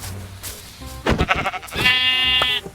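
Sheep bleats from Minecraft sound one after another, with wavering, nasal cries close up and no talk over them.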